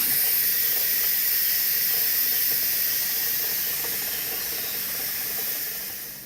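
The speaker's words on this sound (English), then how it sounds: "I can hear that it's quietly hissing the last of the steam" An Instant Pot pressure cooker venting the last of its steam while hard-boiling eggs, a steady high hiss that holds evenly and then tapers slightly toward the end, close and alone.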